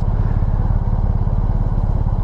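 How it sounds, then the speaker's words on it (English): A deep, throbbing BMW R1250GS motorcycle engine runs steadily and loudly, its boxer exhaust pulsing in a fast, even rhythm throughout. "it's still got the boxer exhaust note, though it seems deeper"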